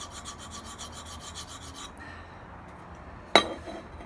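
A tanto knife blade stroked along a sharpening stone, giving a quick series of rhythmic rasping passes up close, then a pause and a single sharp metallic clink.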